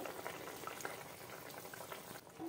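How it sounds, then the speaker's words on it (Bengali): Potatoes simmer in water over a lowered gas flame for a hilsa and brinjal curry, giving a faint, steady bubbling hiss with no voices. "গ্যাসটা কমিয়ে দিয়ে সেদ্ধ হতে দেবো।"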